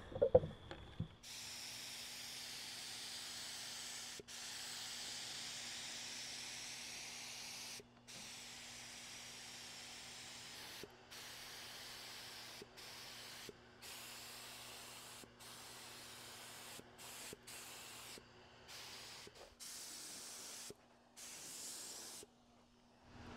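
An HVLP spray gun sprays paint onto a bench in a long, steady hiss, broken by short pauses between passes, close and fairly loud, with a low constant hum underneath and no talking.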